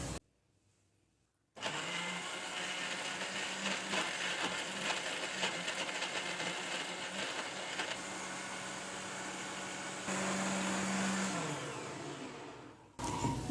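A kitchen blender whirs steadily as it grinds raw mango into juice, starting abruptly after a short quiet, running loud and continuous for about eleven seconds with a brief pitch shift near the end before stopping.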